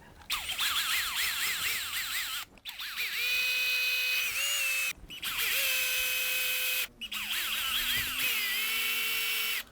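An electric drill bores a hole in a headless guitar body. There are three loud, sustained bursts of whining motor with short pauses between them, and the pitch sags and rises as the bit bites.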